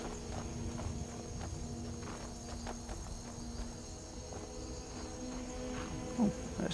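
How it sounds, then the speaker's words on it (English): A horse's hooves clip-clop steadily at walking pace in the Skyrim video game, faint and distant beneath a constant wash of crickets and outdoor ambience, with no one talking. "Oh, there's a horse."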